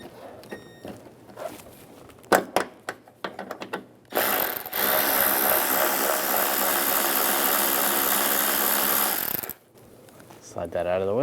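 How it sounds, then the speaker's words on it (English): Power tool running a 10mm socket to remove a ground strap nut on a 2007-2013 Chevy Silverado, a steady loud whir lasting about five seconds, preceded by clanks and handling noises. "Use a 10mm socket, take this nut off."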